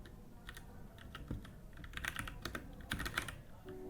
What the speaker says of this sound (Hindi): टर्मिनल खोलने के बाद हम इस पर लिखेंगे अपना गिट कॉन्फ़िग का कमांड